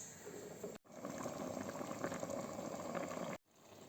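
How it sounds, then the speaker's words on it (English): Barley and water boiling in a covered pot for a chicken and shrimp barley risotto, a steady close bubbling simmer that runs continuously with two brief dropouts, no voices. "Let it boil and then cover it and lower the heat"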